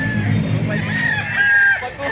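Roosters crowing amid the steady clamor of a chicken market in Calauan, Laguna, with long drawn-out calls layered over a loud, constant background hum.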